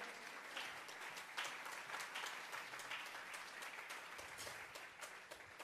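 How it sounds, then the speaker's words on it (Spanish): A church congregation claps in sustained applause during a Spanish-language Bible study service, a dense, even patter of many hands heard from a slight distance and holding steady throughout. "Vamos a regalarle ofrenda de palmas al Dios de la gloria"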